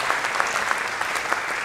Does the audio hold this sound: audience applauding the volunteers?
yes